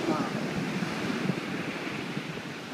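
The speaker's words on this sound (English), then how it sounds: "These waves are huge, man." Heavy ocean surf churns in a continuous wash of crashing water, with gusts of wind buffeting the microphone throughout.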